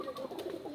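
A pigeon kept with paired breeding birds gives a short, soft, low coo, heard close and alone.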